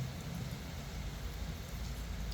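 Heavy rain pours steadily in Uttaradit, Thailand, a dense, even hiss with no voices over it.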